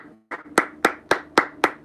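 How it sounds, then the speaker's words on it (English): A single person claps their hands five times in an even, steady rhythm. The claps are sharp and close. "I'll clap by myself"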